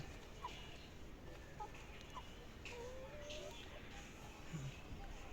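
Chickens kept in an old pigeon coop give short, faint clucks and chirps now and then, thin against a quiet room hum.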